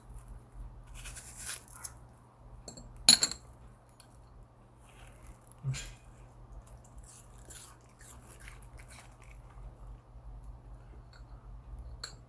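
A dog eats a piece of apple, with faint, scattered bites and crunches over a low steady hum and soft background noise.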